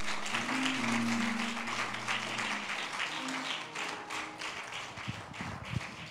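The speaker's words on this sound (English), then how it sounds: "give Jesus a hand clap." Church congregation clapping together during a Sunday service, a dense wash of many hands heard at a distance, with a voice and organ-like tones underneath and a few louder claps near the end.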